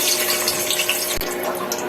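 Cardamom and cinnamon hit hot oil in a pot for polao, giving a steady, close, hissing sizzle with one brief thump midway.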